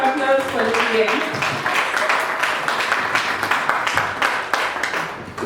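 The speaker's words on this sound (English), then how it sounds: "Another round of applause for Lillian." Steady crowd applause at a book launch celebrating Lillian, many hands clapping continuously with voices mixed in underneath, tapering slightly toward the end.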